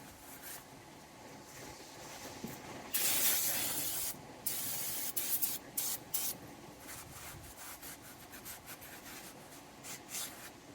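Cleaner sprays onto greasy brake rotors on a G-body Oldsmobile Cutlass in close hissing bursts of varying length, mixed with rubbing and handling noises.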